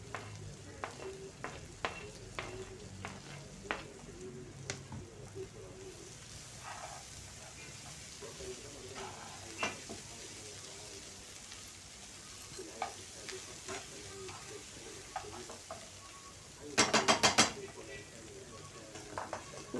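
Colored bell peppers fry with softened onion in a pan, giving a low, steady sizzle. A spoon stirs and taps against the pan at irregular intervals, with a louder clatter burst near the end, all faint and close.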